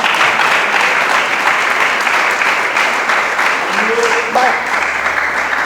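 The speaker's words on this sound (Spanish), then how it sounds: "Dele palmas al Señor." A church congregation applauds together in a dense, loud, sustained burst of clapping that fills the room, with a voice speaking briefly over it.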